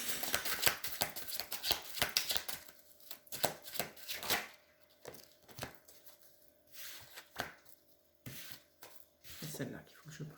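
A slippery tarot deck being shuffled by hand, the cards sliding rather than meshing, gives repeated close, soft riffling and clacking bursts with brief pauses, and some quiet talk in between.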